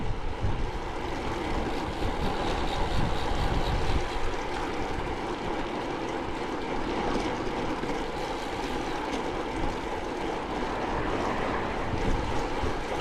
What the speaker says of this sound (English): I've still got the wind behind me here.